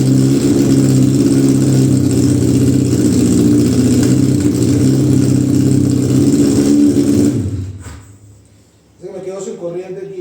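A homemade car fitted with a two-cylinder motorcycle engine runs with a loud, steady low throb for several seconds, then cuts out abruptly, and a voice speaks briefly afterward.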